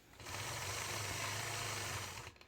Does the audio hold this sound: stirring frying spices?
no